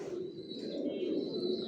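Several pigeons coo softly and steadily inside a new bedding loft, a low continuous murmur with occasional faint chirps over a close ambient hum.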